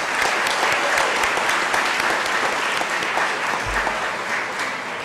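Sustained audience applause at a college day celebration, thanking a campus food-service sponsor, a dense wash of many hands clapping at steady volume that tapers slightly toward the end.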